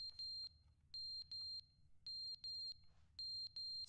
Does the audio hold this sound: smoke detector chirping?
yes